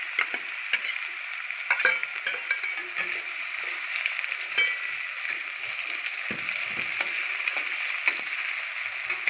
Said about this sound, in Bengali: হালকা লাল লাল করে ভেজে নিতে হবে পেঁয়াজটাকে।